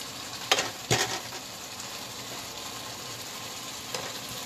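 Pork rinds with eggs and potatoes frying in a pan, a steady sizzle with a couple of louder scraping stirs near the start and another stir toward the end.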